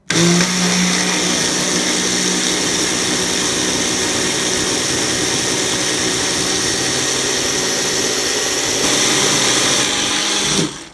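A blender whirs loudly and steadily for about ten seconds, blending a thick dairy-free smoothie bowl mix, the motor's pitch shifting slightly near the end before stopping.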